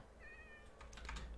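A wild cat in the Minecraft video game gives a single short, faint meow, followed by a quick patter of clicky taps, with no talking.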